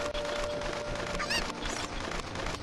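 Chickens (cuccos) clucking and squawking in the video game Zelda: Ocarina of Time, heard steadily against dense game music and effects, with a brief rising chirpy cry partway through.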